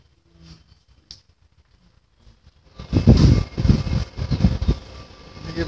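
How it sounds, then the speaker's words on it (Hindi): Wind blows outdoors outside an office, heard as a steady rushing gust that swells in loudly partway through, preceded by a few quiet clicks and faint background sounds. "हवा चल रहा है थोड़ा बहुत।"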